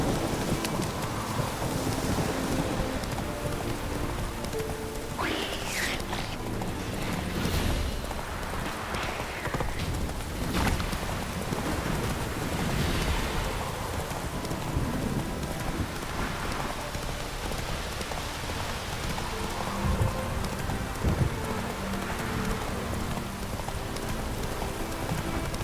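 Horse hooves clip-clop steadily on the ground in The Witcher 3 video game, with rain pattering all around and occasional rumbles of thunder in the background.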